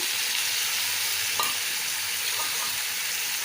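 Onion leaves fry in a pan with a steady, close sizzle and crackle, a constant hiss broken by a brief scrape of stirring partway through.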